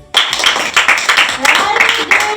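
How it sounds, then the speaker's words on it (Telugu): Schoolchildren in a classroom clapping together for a classmate, a burst of quick, uneven claps starting sharply and continuing close and loud, with some voices mixed in. "అందరు క్లాప్స్ కొట్టండి"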